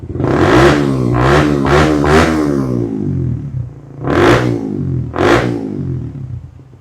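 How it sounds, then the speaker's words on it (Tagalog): A motorcycle fitted with a Contrabida Power Pipe version 3 exhaust revs hard and close by. There is a sustained loud rev and a burst of several quick throttle blips, then two more sharp revs with short pauses between them. "Sound check, Contrabida Power Pipe version 3."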